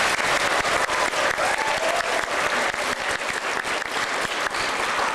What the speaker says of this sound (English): I'd like a round of applause for that.